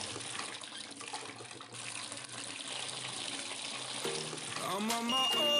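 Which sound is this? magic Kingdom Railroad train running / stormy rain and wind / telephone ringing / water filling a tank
water filling a tank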